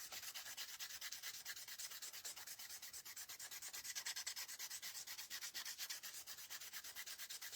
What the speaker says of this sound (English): We're going to take our sanding block and we're going to just rough her up in spots.